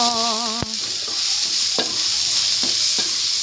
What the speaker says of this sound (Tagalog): Next, ihulog na natin ang ating sibuyas.